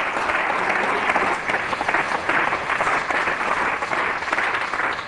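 Members of the Hamburg city parliament applaud during a plenary session, a dense, even wash of clapping heard in a large chamber that holds steady for several seconds.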